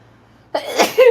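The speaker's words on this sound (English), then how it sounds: "Uh-oh, and I'm going to sneeze again." One sneeze from a person at a painting livestream comes close and loud, a quick breathy intake and burst followed by a voiced, tonal trailing sound, against a quiet background.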